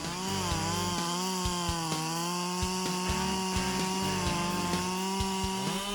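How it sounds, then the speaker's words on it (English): A Stihl MS-881 chainsaw runs continuously at high revs, its harsh buzzing whine dipping and rising in pitch as it bites into a large Trembesi tree, loud and close. "Using a Stihl MS-881 chainsaw, the saw operator performed the process of cutting down two large circumference Trembesi trees."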